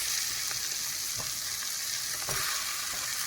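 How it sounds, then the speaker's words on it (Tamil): Onions fry in a pan as ginger-garlic paste is added, giving a constant close sizzle with a few faint stirring taps and no talk. "ஸோ வந்து வெங்காயம் நல்லா வதங்கிருச்சு. இப்போ இதில் நம்ம இஞ்சி பூண்டு பேஸ்ட்டு போட போகிறோம்."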